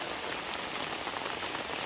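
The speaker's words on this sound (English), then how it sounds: "The rain's still pretty steady." Steady rain from Hurricane Helene in Atlanta falls on the ground and surfaces all around, a dense, even hiss with no voices.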